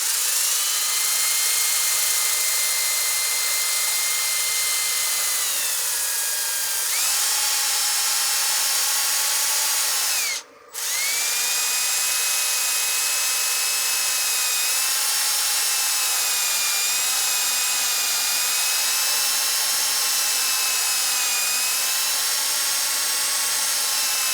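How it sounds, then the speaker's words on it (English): Sanding disc pressed flat against a spinning wooden cake stand on a lathe, a steady high whine with layered harmonic tones that shift slightly in pitch, broken by one brief cutout partway through; loud and close, no voices. "I'll be trying to sand with the entire face of the disc to try and maintain flatness."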